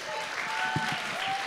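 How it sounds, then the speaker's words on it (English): Audience applause at a coffeehouse performance event, a steady wash of clapping with a voice briefly speaking under it. "So let's give them a large round of applause."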